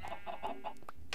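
Minecraft chickens cluck in a quick run of short, close, moderately loud clucks, with no talk over them.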